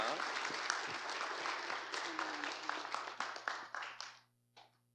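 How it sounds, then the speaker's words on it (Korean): A congregation claps at a church anniversary and ordination service in New York, a sustained round of applause that thins into scattered individual claps and stops, leaving near silence with one last faint burst. "박수"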